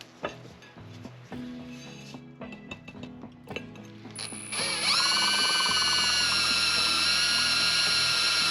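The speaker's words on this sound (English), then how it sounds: "To drill the hole in the housing, I first drill a small pilot hole" A small pilot hole is drilled into the housing of a Vectrix VX1 electric scooter, starting with scattered handling clicks before a loud, steady high-pitched drill whine takes over for the last few seconds.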